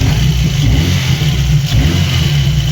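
A VAZ 2115 car engine idles steadily after cylinder head repair, a close, even low rumble with a faint exhaust note and no misfire gaps, heard alone.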